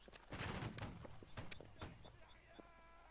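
Musket volleys crack out in the Napoleonic-era video game Holdfast, several sharp reports in quick ragged succession, some nearer and some more distant, over a quiet battlefield background.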